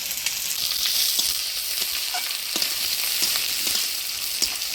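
Black cumin, garlic and chopped onion fry in hot oil, a continuous close hiss and crackle with faint occasional clicks of a utensil, no talking.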